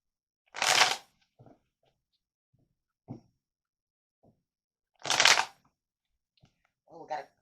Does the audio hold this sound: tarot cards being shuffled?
yes